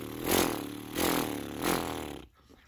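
A voice imitates a small generator engine running rich, with three throbbing, horse-like sputtering bursts at an even rhythm, close and moderately loud, then a short quiet tail.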